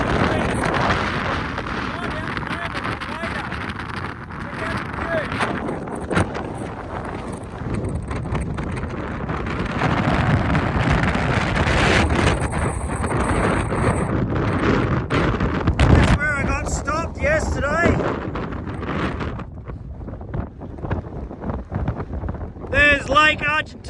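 Strong gusting wind at a mountain viewpoint near El Chaltén in Patagonia, roaring and buffeting close against the microphone throughout, with someone speaking intermittently beneath the blustery noise.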